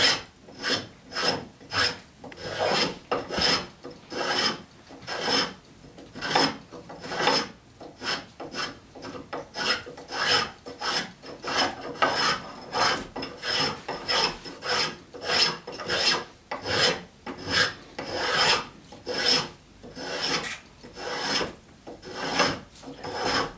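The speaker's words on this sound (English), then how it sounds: "the spoke shave cuts so clean that I won't have to scrape it" Spokeshave rounding the top of a wooden chair arm rail, producing steady rhythmic rasping strokes, each a short scraping shave repeated back and forth at close range with no talking.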